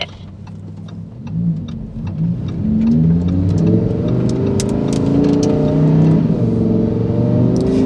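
A Ferrari 488 sports car engine revs and accelerates, its pitch climbing through gear changes, loud and close, growing steadily from a quieter start.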